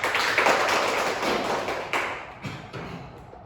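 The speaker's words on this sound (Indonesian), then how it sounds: "Oke, tepuk tangan untuk Elizabeth." A classroom of students claps for a classmate during a microteaching session, a dense burst of applause that fades out, with a few scattered claps and taps at the end.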